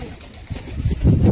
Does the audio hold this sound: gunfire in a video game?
no